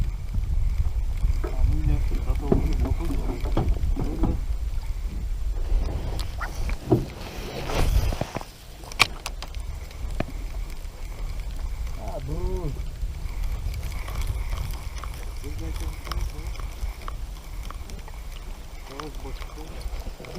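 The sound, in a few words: rowboat moving on water while fishing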